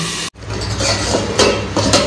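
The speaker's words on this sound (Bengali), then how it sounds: "ঢাকাটা যে তুলে নেবো" A metal lid comes off a pot of simmering mixed vegetables for shukto on a gas stove, giving a couple of close, bright clinks and scrapes over a low kitchen hum.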